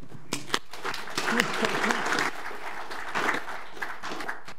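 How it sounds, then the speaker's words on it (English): Audience applause fills a conference room at NZNOG 2018, a dense wash of clapping with a few sharper claps near the start, steady for several seconds with faint voices underneath. "let's clap Brad to give him some encouragement"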